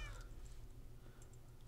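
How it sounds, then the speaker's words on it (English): A cat meowing in a game stream: a short meow at the start over a steady low background hum, with no talk. "That's a cat. There's 2 cats."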